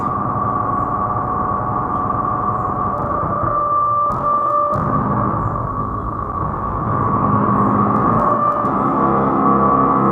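A sustained Synthstrom Deluge synthesizer tone with reverb and delay holds steadily with layered harmonics and a brief dip midway, continuing at even volume with a lingering, echoing tail.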